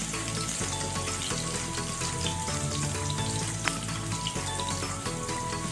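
Garlic fries in hot oil in a pan with a dense, steady crackling sizzle, loud and continuous throughout, with small pops and occasional faint clinks.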